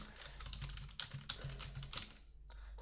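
Someone types on a computer keyboard with quick, light, irregular clicks and a few firmer key presses. The sound is faint and steady over a low hum.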